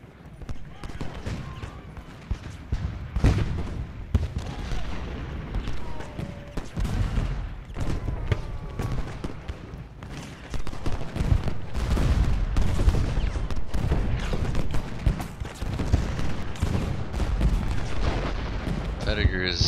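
Repeated cannon and musket fire from the Ultimate General: Gettysburg game, with a Confederate assault raging. Booms and crackling volleys pile up continuously, growing louder in the second half, while a voice keeps talking over the battle.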